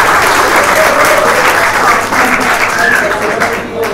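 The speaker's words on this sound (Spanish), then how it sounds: "Un aplauso para Diego León" An audience at a panel discussion in a bar applauds loudly and steadily, the dense clapping lasting the whole stretch with no break.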